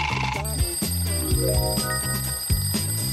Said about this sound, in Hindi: तुम्हें पता है उस अलार्म का मतलब क्या है?